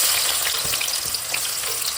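Chopped onion hits hot oil in a large kadai, setting off a loud, steady sizzle and crackle that holds unbroken throughout, with faint stirring scrapes and no voices.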